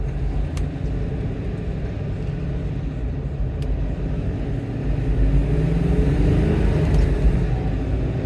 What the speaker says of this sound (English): It's a nice sounding Hilux.